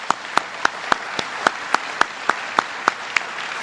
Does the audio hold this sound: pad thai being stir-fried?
no